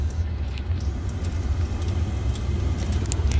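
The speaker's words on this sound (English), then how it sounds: "Wow, this is a fast car" A fast car drives along with a low, steady engine rumble and road noise heard from inside, continuous and moderately loud, with faint scattered clicks above it and no talking.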